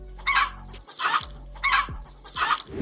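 A rooster lets out four harsh, evenly spaced squawks nearby, each a short loud burst with brief pauses between.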